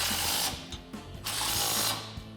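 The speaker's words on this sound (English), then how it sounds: "we're gonna use our 17 millimeter on our impact and tighten it down" An impact wrench with a 17 mm socket drives a bumper bolt on a 2014–2021 Toyota Tundra, giving two loud, close, rattling bursts of hammering that run almost without pause and no voices.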